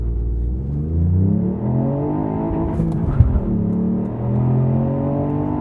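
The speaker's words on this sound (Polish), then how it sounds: "Ale ładnie ten wydech tu z tyłu brzmi." A Ford Puma ST pulls hard in second gear, its exhaust rising in a steady climbing drone that swells and holds for several seconds with a brief mechanical clatter partway through.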